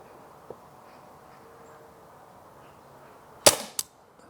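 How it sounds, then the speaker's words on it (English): An Umarex Glock 17 Gen 5 MOS pellet pistol fires once, a single sharp, close crack followed a moment later by a smaller snap, against a quiet outdoor background. "We are ready to fire, and I'm gonna shoot the left-hand target."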